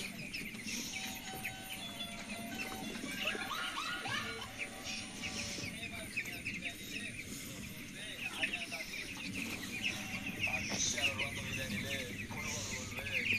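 Many chickens cluck and chirp softly all through, a busy flock murmuring together at close range with low background noise.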